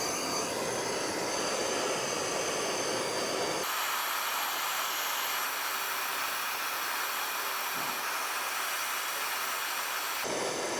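A torch flame roars steadily against the rusted tie rod adjuster sleeve on a 1993–1997 Ford Ranger, a broad continuous hiss that shifts in level partway through, with no talking.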